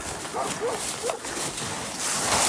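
A dog gives a few short, close barks and yips outdoors, over steady wind-like noise.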